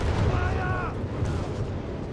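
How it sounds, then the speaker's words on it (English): Artillery loiter strike in Company of Heroes 3, a dense rumble of distant booms and gunfire in a battle scene, with a commentator talking over it. "Another artillery loiter."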